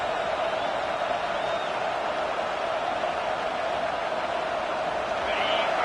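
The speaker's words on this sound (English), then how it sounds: "Listen to the crowd energy here in the early going." A large crowd roars in a continuous, dense wash of noise, steady and loud throughout with no clear breaks.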